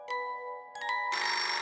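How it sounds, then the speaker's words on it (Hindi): A telephone kept outside a room in a haunted hospital rings with repeated bright electronic trills, fairly loud and close, growing denser and louder toward the end with no voices. "कि तभी बाहर रखा टेलीफोन बजने लगा"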